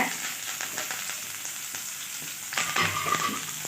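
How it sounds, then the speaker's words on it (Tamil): Onion, dried red chili and curry leaves frying in oil after mustard seeds pop, giving a steady crackling sizzle that swells louder with spatter near the end, no speech. "கடுகு பொரிஞ்சிருச்சு வெங்காயம் வத்தல் கருவேப்பில் போட்டுக்கோங்க"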